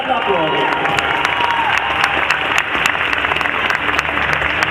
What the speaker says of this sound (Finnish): Ja raikuvat aplodit.